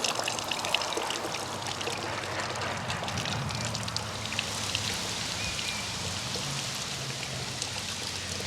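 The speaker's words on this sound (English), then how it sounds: "Let's see how the water wheel does." Water pouring over a garden water wheel as it runs, a steady broad splashing and trickling wash that stays even and fairly close throughout, with no voices.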